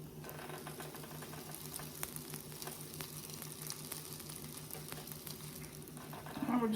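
A turkey, avocado and bacon panini cooks in a pan, giving a soft, steady sizzle that stays faint and even throughout, with a slightly louder crackle at the very end.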